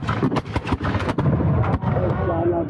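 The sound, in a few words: musket gunfire at a war reenactment battle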